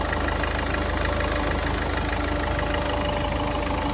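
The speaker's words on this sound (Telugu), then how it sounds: "ఇంజన్ ఆల్రెడీ స్టార్టింగ్లోనే ఉంది ఇంజన్ మాత్రం ఎక్సలెంట్ ఉంది" A 2018 Ford EcoSport Titanium engine idles with a steady, even mechanical hum and faint rhythmic ticking, close and continuous for the whole stretch, with no voices.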